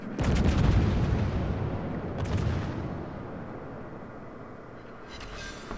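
The main battery of the CALIFORNIA, an American Tier-7 premium battleship, firing in World of Warships: a heavy booming salvo at the start, then a second rumbling blast, each fading into a long low roar.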